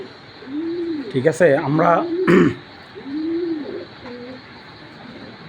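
Giribaz pigeons coo close by, a few rounded rising-and-falling calls separated by pauses, with someone speaking in between.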